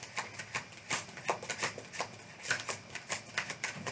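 Tarot and oracle cards are shuffled by hand in quick, even riffles, a steady crisp flutter of card edges snapping close up for several seconds with no talking.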